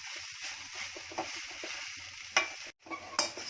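A ginger and date mixture cooks over a high flame, with a soft, continuous sizzle broken by scraping stirs and a few sharper clinks of a spoon against the pan.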